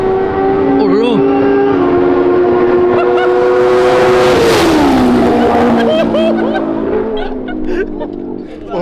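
A 920 hp BMW M4 accelerating hard, a loud rising engine howl that climbs through the gears with a clear pitch drop at a shift, recorded from inside the car.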